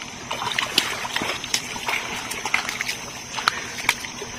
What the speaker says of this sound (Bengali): জলের আওয়াজ নিশ্চয়ই শুনতে পাচ্ছেন, কি জোরে জোরে এসে পাড়ের গায়ে।